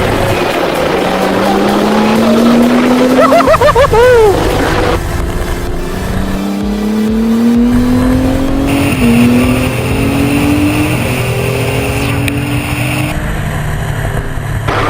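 A Formula 2 single-seater race car on a damp track with cold slick tyres and no traction control, its engine loud and close, rising in pitch through repeated upshifts and revs, with steady wind roar throughout.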